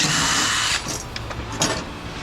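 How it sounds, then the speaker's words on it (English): A power drill runs steadily at high speed, then drops off and revs in short bursts while sorting electrical gear for scrap, close and loud with no talk. "you got to keep that drill humming"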